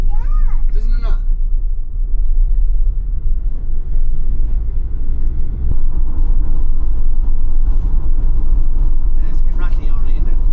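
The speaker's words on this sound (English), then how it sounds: "It's a bit rattly already, isn't it?" A converted van driving on the road, with a loud, steady low road rumble and a faint rattle running throughout, while people talk over it.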